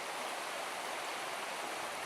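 Yosemite Creek rushing past a picnic area, a steady broadband wash of flowing water heard close and unbroken with no voices.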